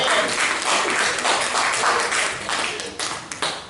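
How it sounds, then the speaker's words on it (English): A church congregation claps its hands together, a dense round of applause that swells and then thins into scattered claps toward the end, with no speech over it. "can you clap your hands at the fact that you are not where you used to be?"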